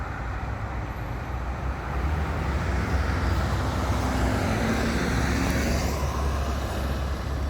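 Road traffic noise beside a 2019 Toyota RAV4 parked next to a road, a loud, continuous roar of passing cars and engines with rising and falling swells and no one speaking.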